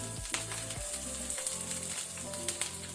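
Urad dal, chana dal and ginger fry in hot oil for lemon rice, giving a steady close sizzle with occasional light stirring clicks and no talk.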